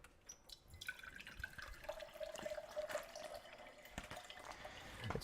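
Water runs from a tap into a container, splashing and rising in pitch as it fills, with clattering handling noises close by.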